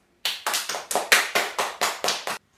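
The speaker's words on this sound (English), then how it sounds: "Give them a round of applause." A class claps for students in a steady rhythmic pattern, about nine sharp, evenly spaced bursts, close and loud with no talking.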